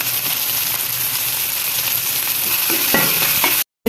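Garlic sizzles and fries with onions in a pan for a pea kurma, steady dense crackle throughout with a few scraping stirs near the end before it cuts off.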